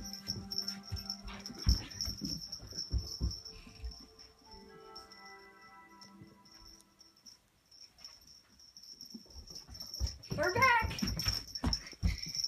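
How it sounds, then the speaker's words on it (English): A dog whimpers and whines in soft, high, broken cries, with a longer rising whine near the end, over a steady insect chirp; a person talks nearby at the start. "That's gonna be my dog"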